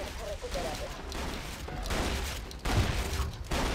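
Rapid turret gunfire from Borderlands 2 on PS3 chatters steadily throughout, mixed with game combat noise and bursts that swell louder near the end, with a player talking over it.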